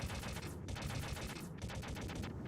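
Rapid pistol gunfire from the Metal Gear Solid video game, a dense burst of loud overlapping shots with brief pauses, close and continuous.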